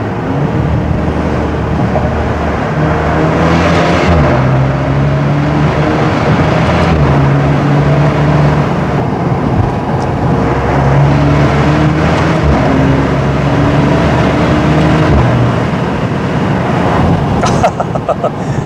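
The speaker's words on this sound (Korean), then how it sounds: "와, 방금 터널 배기음 진짜 4기통이어도 대단합니다" A Maserati Ghibli GT mild hybrid with a four-cylinder engine drives through a tunnel, its exhaust a steady, loud low droning hum with rising and falling engine tones, heard from inside the car.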